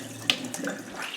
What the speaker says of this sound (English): run a towel through this hot water, kind of soak it